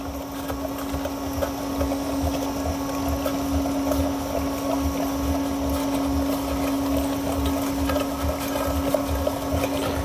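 Ice cream machine churning gingerbread cookie ice cream, a steady motor hum with a constant whirring tone and a rhythmic low thumping from the turning bars, holding at an even level throughout with no talking.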